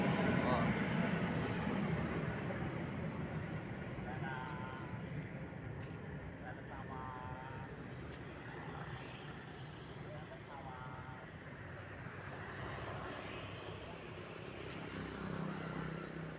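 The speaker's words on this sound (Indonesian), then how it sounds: "pesawat super air jet itu" A Super Air Jet airliner passing overhead gives a steady, broad roar that holds for the whole stretch, with faint voices in the background.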